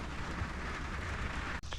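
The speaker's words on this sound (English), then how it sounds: "This morning, thunderstorms and rain." Steady rain and a low rumble of thunder fill a morning thunderstorm, a dense hiss with deep rolling energy underneath, broken by a brief dip near the end.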